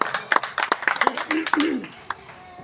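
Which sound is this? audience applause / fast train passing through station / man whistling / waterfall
audience applause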